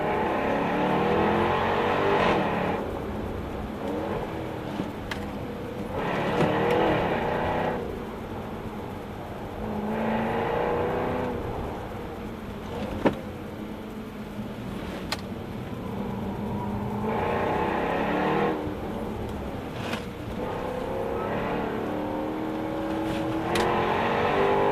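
A Jaguar XE S driven at speed on the Mille Miglia road route, its engine note rising and falling through repeated accelerations and gear changes, loud and continuous from inside or near the car.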